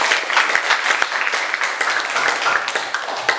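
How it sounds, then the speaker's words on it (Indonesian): Students in a high school physics classroom give a classmate a round of applause, a dense, lively patter of many hands clapping close by for a few seconds, with no talk. "Kasih aplaus dulu buat Ivan."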